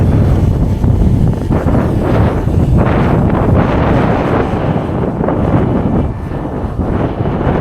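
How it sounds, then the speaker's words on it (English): Steady, loud wind buffeting the microphone of a DJI Mini 3 Pro drone in flight, with low rumbling gusts throughout and no voices. "And it's windy"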